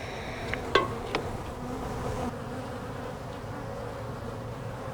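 A steady, low buzzing hum of many honey bees nesting inside a wall fills the background, close by, with a few faint knocks and scrapes early on.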